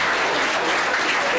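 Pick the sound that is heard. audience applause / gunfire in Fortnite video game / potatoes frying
audience applause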